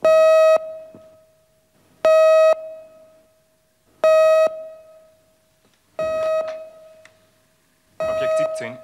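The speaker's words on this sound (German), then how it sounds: "Wir haben Alarm für Objekt 17." A police station alarm sounds as five evenly spaced, loud electronic tones, each about half a second long and two seconds apart. The later tones are overlaid by faint voices.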